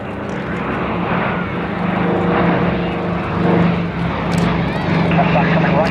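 P-51 Mustang propeller aircraft flying at a Sywell airshow, its steady engine drone continuous and fairly loud throughout, with crowd and commentary noise in the background.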